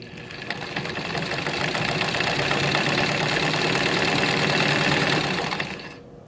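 A sewing machine runs steadily for about six seconds, stitching bias binding onto fabric, a continuous close, loud mechanical whir that stops abruptly at the end with no talking.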